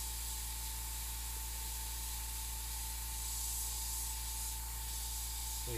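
An airbrush sprays paint in a steady, close, soft hiss while highlighting the tooth of a realistic skull in a custom paint job, with a faint constant electrical hum underneath.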